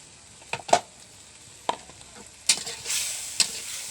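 Kanch fish sautés in a spiced pan with a soft steady sizzle, broken by several sharp spatula scrapes and clatters, close by and without speech.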